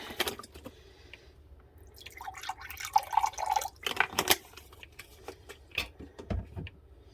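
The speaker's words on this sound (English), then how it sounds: "I'm going to do some distilled water." Distilled water poured for cleaning, a soft wet trickle with scattered drips and splashes, faint and close, running intermittently for several seconds with no talk.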